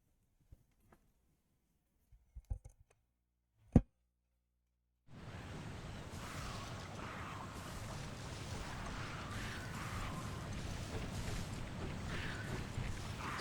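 Water in the PSP game Monster Hunter Freedom, a steady rushing wash that starts abruptly after a few sparse clicks and continues evenly, moderately loud, with nothing else over it.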